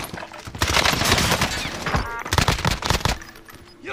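Rapid automatic gunfire in the video game Warzone, hip-fired in dense bursts of loud cracking shots that cluster over a few seconds.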